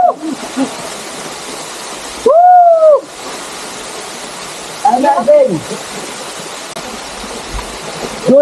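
The Sungai Duyan waterfall at Desa Siabu, Kecamatan Salo, rushes as a loud, steady wash of noise while people talk and call out over it.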